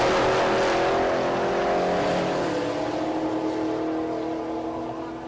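A 2019 Dodge and a convertible Mustang launch down a drag strip, a loud, sustained engine roar with rising pitch that gradually fades as the cars pull away.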